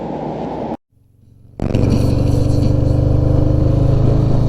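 A motorcycle pulls away outside a restaurant; after a brief silence a loud, close engine catches and holds a strong, rising drone.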